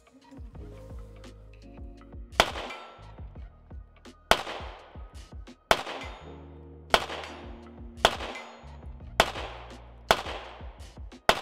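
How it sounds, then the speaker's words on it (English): Rost Martin RM1C compact pistol fired at a range, seven sharp loud shots spaced roughly a second or more apart, each with a ringing decay, and scattered handling clicks between them. "Drop some shots there, throwing rounds."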